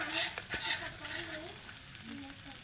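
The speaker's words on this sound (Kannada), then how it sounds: "ಚಟ್ಪಟ್ ಅನ್ನಕತ್ತೈತೆ ನೋಡ್ರಿಪ್ಪ ಇದು ಅಲ್ಲ ಬೆಳ್ಳುಳ್ಳಿ ಪೇಸ್ಟ್ ಹಾಕಿದ್ದಕ್ಕೆ" Garlic paste and spices crackle and sizzle in hot oil, with a steady frying hiss broken by a few louder pops and the scrape of stirring, close and alone without talk.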